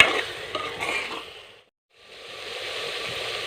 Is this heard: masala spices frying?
yes